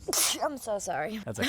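A single sharp sneeze bursts out nearby, followed right away by a short exchange between two people.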